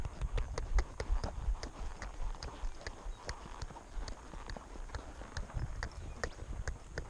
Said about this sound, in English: I'm going to sit the trot now.